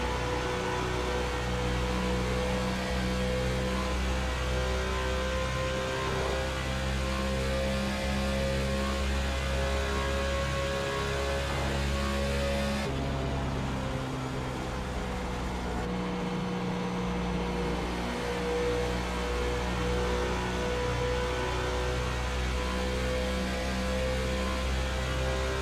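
A B-class race car engine held at full throttle around the Michigan track, a loud, steady in-car drone with a constant tone that dips and shifts briefly midway as the driver lifts off and eases back on the gas.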